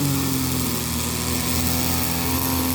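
A petrol string trimmer fitted with number three nylon line runs at a steady high-pitched whine while cutting grass, a close, continuous engine drone with a faint dull edge and no talk.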